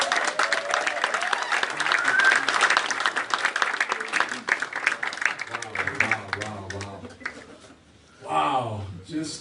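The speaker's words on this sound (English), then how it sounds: "Ladies and gentlemen, with a resounding round of applause, please help me welcome the one and only reigning WWE World Champion, Kofi Kingston." An arena-style audience claps and cheers loudly to welcome the reigning WWE World Champion at a media appearance, dense applause that thins out before a voice comes in and another swell of cheering rises near the end.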